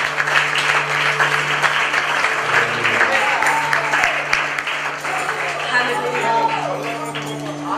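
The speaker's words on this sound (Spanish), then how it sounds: "¿Alguien podría aplaudir a Jesús por el día de hoy?" A church congregation at a Spanish-language service claps steadily and loudly throughout, with voices calling out and talking over the applause.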